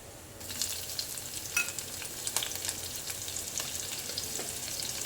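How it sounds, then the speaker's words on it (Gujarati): Cumin seeds, asafoetida and green chillies sizzle in hot ghee and oil for a Gujarati corn chevdo, a soft, steady frying crackle with occasional sharper pops and stirring sounds, heard alone without talk. "તો આપણું ઘી અને તેલ ગરમ સરસ થઈ ગયું છે. તો આપણે જીરું ઉમેરી લઈશું, થોડી હિંગ, મેં 2 લીલા મરચાં લીધા છે"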